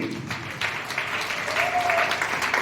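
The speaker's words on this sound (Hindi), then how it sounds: "सुपर जोरदार ताली।" A crowd at a Sapphire VP success-story event in Ranchi, Jharkhand applauds steadily and loudly, a dense wash of clapping held at an even level throughout with no talk.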